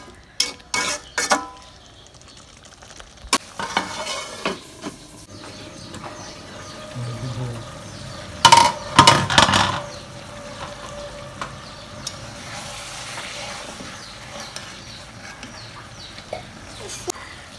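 Pangas fish rubbed with turmeric, salt, chili, ginger and garlic paste sizzles in a pan, with scattered utensil clinks and stirring scrapes over a steady low frying hiss.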